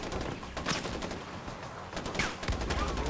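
Rapid gunfire from armed enemies in the game Far Cry 4, bursts of fairly faint distant shots and crackling automatic fire scattered over a few seconds.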